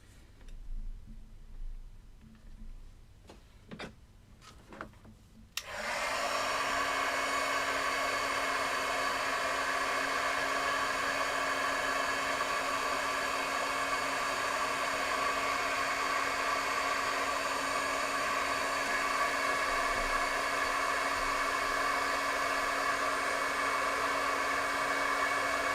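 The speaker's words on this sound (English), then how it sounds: "I'm going to heat emboss. It will be kind of loud" A heat embossing tool switches on after a few faint ticks and blows hot air with a loud, steady whir that runs unbroken to the end.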